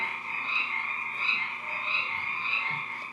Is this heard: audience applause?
no